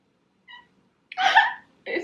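A house cat gives a few small, squeaky, breathy meows up close: a faint short chirp, then a louder mew and another brief call, with quiet in between.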